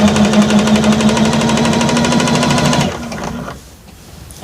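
A Bernina sewing machine running with an odd sound: a loud, steady, rapid mechanical chatter with a droning hum that stops after about three seconds, leaving faint rattling.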